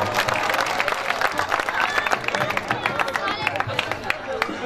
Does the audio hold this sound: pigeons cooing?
no